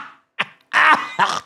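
A woman gives a short, close cough and throat-clearing burst, a few rough bursts separated by brief silences.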